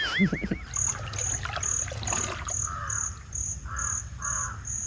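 Crows caw in a garden, several sharp, repeated calls at moderate distance over an outdoor background with a steady high electronic tone.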